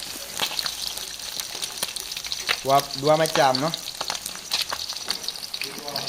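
Chili peppers fry in a pan with a steady sizzle and crackle throughout, while a person speaks briefly over the cooking near the middle and end.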